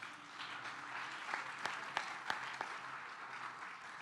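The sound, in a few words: congregation applauding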